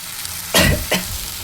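Tomatoes and ginger fry in a pan, giving two short, loud bursts of sizzling as they are stirred, followed by a quieter steady crackle.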